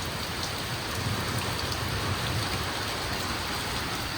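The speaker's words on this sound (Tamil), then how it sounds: "நல்ல மழை பெய்யுது" Heavy rain, with hailstones mentioned, pours steadily outdoors at a vegetable farm, making a dense, even hiss of drops on surfaces that stays loud and unbroken throughout, with no voices.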